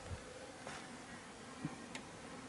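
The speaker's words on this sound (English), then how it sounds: "There is bees everywhere." Honey bees robbing and fighting at a hive make a faint, continuous buzzing drone with a few brief sharper buzzes passing close, no voices present.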